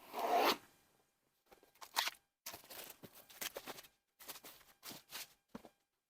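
Heat shrink wrap being torn and peeled off a Vantrue Falcon 1 motorcycle dash cam box, heard as a series of brief crinkly plastic rustles and rips separated by short pauses, close and fairly quiet.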